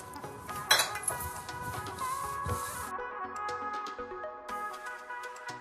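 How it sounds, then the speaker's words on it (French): Chapati dough of flour and water, no salt or oil, being mixed and kneaded in a bowl, with steady soft squelching and rubbing plus a few bright clinks of utensil against the bowl, close and unbroken. "je vais commencer à mixer et malaxer et pétrir et faire une bonne pâte"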